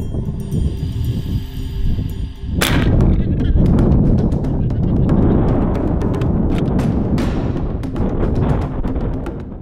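A Bushbuck 45 airgun fires a single loud, sharp report at a warthog about 68 yards out in brush, ending a quieter stretch and followed by a sustained roar of outdoor noise.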